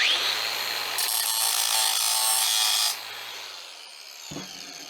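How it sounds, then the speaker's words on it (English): An angle grinder briefly bites into a piece of dirty brass scrap, a bright harsh grinding rasp that runs steadily for about two seconds and then cuts off, leaving a fading whine and a light knock at the end. "Let's touch that with the grinder."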